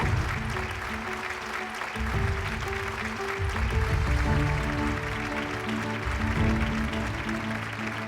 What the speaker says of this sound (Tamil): ஒரு பெரிய கைத்தட்டல் கேட்கலாம் அவங்களுக்காக